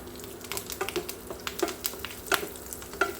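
Ginger garlic paste and curry leaves fry in a little ghee in a pan, a quiet close crackle broken by irregular scraping and tapping as a spoon stirs.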